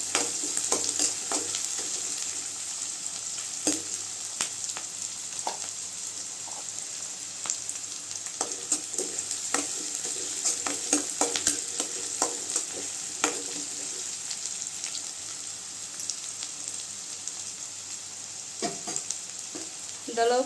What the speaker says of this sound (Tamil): வெங்காயம் லைட்டாக வதங்கினா போதுங்க.